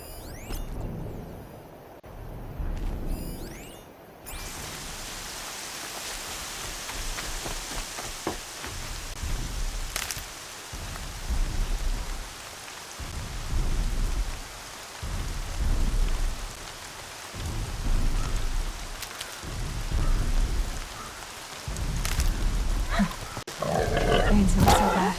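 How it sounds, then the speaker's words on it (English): Steady rain falling in the video game Horizon Zero Dawn, a broad continuous hiss with low rumbling pulses rising and falling every couple of seconds, faint thunder-like swells, no talking. "Rain's not so bad."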